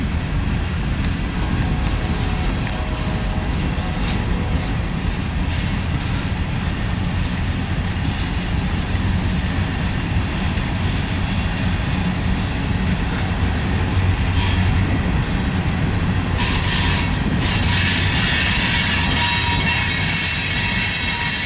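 A Norfolk Southern freight train rolls steadily past near Alliance, Ohio, its locomotives hauling a long string of cars with a continuous loud rumble, wheel squeal and clatter throughout, rising brighter toward the end.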